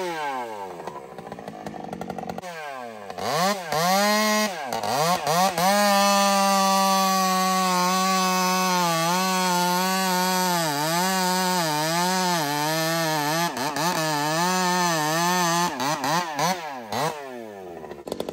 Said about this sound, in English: have a little listen to this power saw